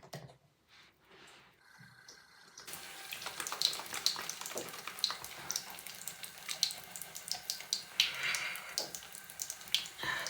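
Tap water runs steadily at a bathroom sink during face washing, a soft continuous splashing stream with small spatters and shifts as hands move through it, close by and without talk.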